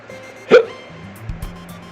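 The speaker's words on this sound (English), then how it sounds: "I got the hiccups." A single sharp hiccup from a person in a quiet room, one short loud burst near the mic, followed by faint low hum and soft background noise.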